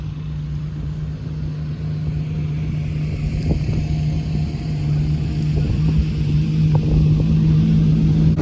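A Ferrari F50 and Ferrari F40 arrive with a steady, loud engine drone and a low hum that builds slightly, the sound of the approaching supercars continuous throughout.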